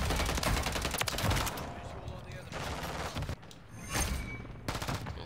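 Rapid gunfire bursts from the video game Modern Warfare 3 in hardcore mode, loud and dense at first, then dropping into quieter sporadic shots with further bursts later, while a player talks over much of it.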